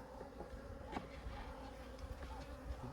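Honey bees buzz steadily in a mating nuc hive, a dense close drone with small swells throughout and no voices.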